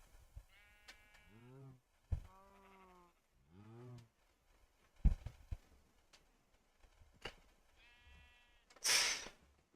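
Minecraft sheep bleating in the video game, several wavering bleats spaced across the clip with faint clicks and thumps between them, and a short burst of noise near the end.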